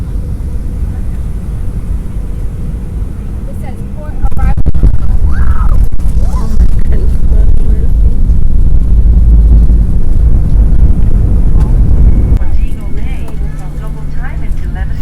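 Airplane landing at Montego Bay, Jamaica, heard from inside the cabin: a steady low rumble that swells sharply around the four-second mark and stays loud, with indistinct voices beneath it.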